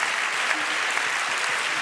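Audience applause in a school event hall, steady sustained clapping from a crowd throughout, even in level with no pauses.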